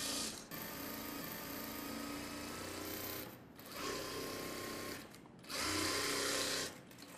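Sewing machine stitching a fancy blouse with lining, a continuous close, buzzing run broken by three brief pauses, each followed by renewed fast stitching.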